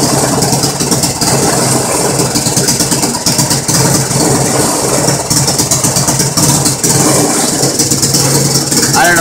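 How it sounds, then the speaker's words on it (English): A home-made generator engine runs steadily and loudly throughout, with a continuous mechanical drone and light rattle, close to the listener and without a break. "Now it's being charged by the generator."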